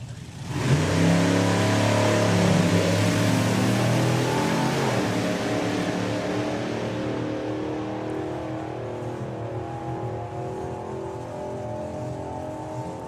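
A drag racing car roars hard down the strip at a sportsman nationals meet, a loud sustained engine note that peaks early then eases off and fades as it pulls away.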